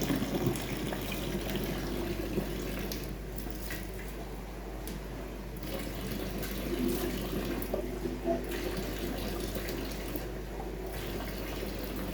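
Water runs steadily throughout, a continuous low splashing hiss as if from a tap, with no voices.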